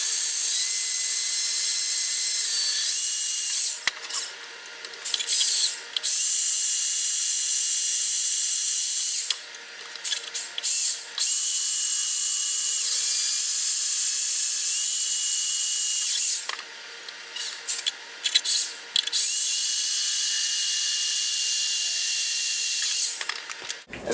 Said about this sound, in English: So the drill bit can actually drill right on the dot.